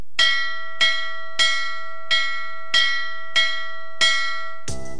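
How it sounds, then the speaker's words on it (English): A bell in the JumpStart Kindergarten video game dings seven times in an even, steady rhythm, each clear metallic ring decaying before the next, followed by a short buzzy burst at the end. "I hear a bell ding-dinging."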